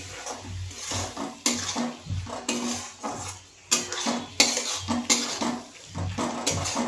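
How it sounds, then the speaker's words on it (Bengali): A spatula stirs and sautés a paste of Kashmiri chili powder and turmeric in a pan for tilapia fish jhal, with repeated metallic scrapes and clanks at an uneven rhythm and no talking. "এবার আমি এই মশলাটা খুব ভালো করে কষিয়ে নেব।"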